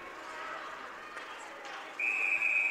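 A referee's whistle sounds at an amateur ice hockey game, a sharp steady blast near the end cutting through rink noise and crowd murmur.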